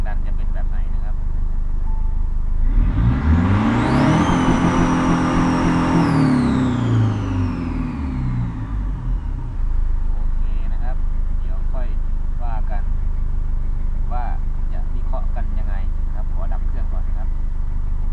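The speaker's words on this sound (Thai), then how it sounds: "จะลองเบิ้ลจนรอบตัดดูนะครับว่ารูปแบบของแรงดันจะเป็นแบบไหนนะครับ" A car engine is revved hard in one rising blip toward the rev limiter during a tuning session, then falls back to a rough idle. It is loud and close, and someone speaks afterward.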